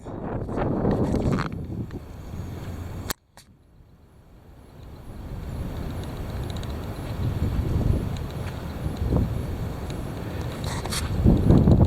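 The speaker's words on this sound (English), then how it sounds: "There it is. The heavy wind." Heavy wind buffets the microphone in rumbling gusts, dropping briefly after a sharp click before building again into a strong, continuous roar.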